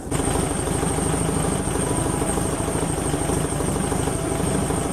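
A CB Performance engine idles steadily after its first oil change, giving a close, even, continuous mechanical drone with a light clattering texture and no talk.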